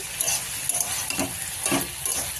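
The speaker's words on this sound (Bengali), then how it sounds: "দেখো দেখো ফুলকপি আলু ভাজা করছি" Steady close sizzling of cauliflower and potatoes frying in a pan, with occasional scraping and stirring sounds and no talking.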